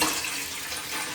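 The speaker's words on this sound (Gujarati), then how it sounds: "તો એમાં પાણી નાખી લેવું" Water pours steadily into an idli steamer pot, a continuous bright splashing rush close by with no pause, no talk heard over it.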